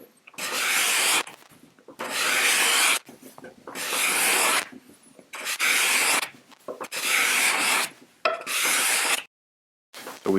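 A steel card scraper takes shavings from a wooden surface in long rasping strokes, about six loud strokes with short pauses between them.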